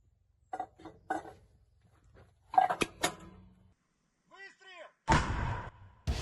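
Heavy cannon blasts from an MT-12 Rapira anti-tank gun boom amid scattered impacts and clatter on a front line. A short burst of whistling or chirping is followed by a loud, sustained roar, with voices mixed in.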